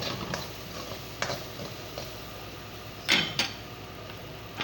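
Cabbage shallow frying in a pan, heard as a faint, steady low sizzle with a few sharp clinks and scrapes of a utensil stirring against the pan.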